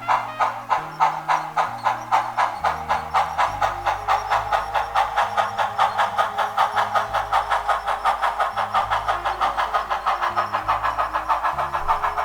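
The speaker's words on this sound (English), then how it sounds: "I decided to just shoot some video of trains running" Model trains run on a layout with a fast, rhythmic steam-style chuffing, steady and close, over low shifting tones.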